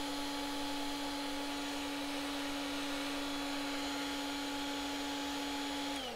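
Hot air tool heating a circuit board for soldering, a steady loud whining hiss with a constant tone that holds unbroken throughout, close by and with no talking.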